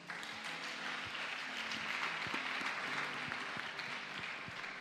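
A church congregation applauds during a French-language worship service, a dense, sustained wash of clapping that holds steady for several seconds, with faint voices mixed underneath.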